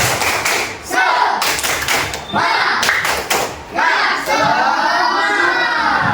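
A class of Islamic education students does the rhythmic spirit clap together, with bursts of clapping and thumps alternating with loud group chanting in a lively room.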